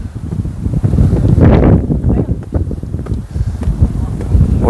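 Strong wind gusts rumble across an open hilltop near Ooty and Coonoor, roaring steadily into the microphone in loud buffeting bursts, with people talking faintly underneath.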